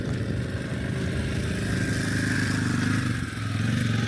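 KTM 500 EXC-F motorcycle engine running steadily as the bike is ridden through sand, a continuous close, fairly loud drone with slight shifts in pitch and no talk.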